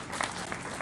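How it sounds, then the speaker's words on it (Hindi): Brief burst of audience applause welcoming guests at a public event for a COVID hospital inauguration in Bina, steady dense clapping heard faintly and briefly. "एक बार सभी लोग ताली बजाकर स्वागत करें।"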